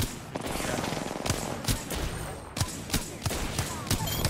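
Rapid bursts of gunfire from an online shooter game crack out in quick succession over a dense layer of game noise, sharp repeated shots sometimes clustering into fast strings, with a voice talking faintly underneath.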